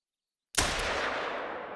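A single .243 handgun shot in a hunting game, a sudden loud crack after brief silence followed by a long rumbling echo that fades slowly across the distance.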